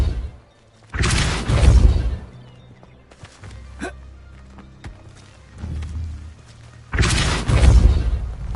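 A Depulso spell blast in the video game Hogwarts Legacy: two loud, booming bursts of about a second each, near and full-bodied, separated by a quieter stretch of softer magical effects and a brief sharp zing.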